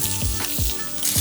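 Beef sirloin steak, seasoned with salt and pepper, sears in hot oil in a pan, giving a steady close-up sizzle and crackle with a few soft low thumps.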